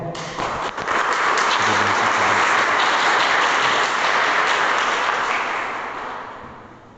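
A church congregation claps together in sustained applause, a dense even wash of hand claps that rises quickly, holds steady and slowly fades out near the end, with no talking over it.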